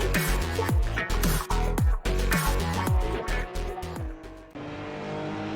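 A Porsche race car laps Kyalami in Assetto Corsa Competizione: loud engine revs climb and drop sharply with each upshift, a rhythmic run of gear changes, before it settles into a steadier drone at the end.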